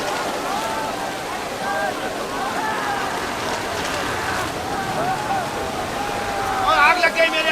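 Rain falls as a drama sound effect, a steady broadband wash of heavy rain under a voice speaking throughout, with a few brighter tonal flourishes near the end.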